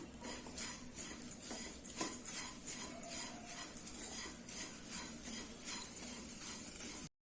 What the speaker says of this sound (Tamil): இப்போ ஃப்ளேம் வந்து மீடியமாக வச்சு இது நல்லா வறுத்துக்கலாம்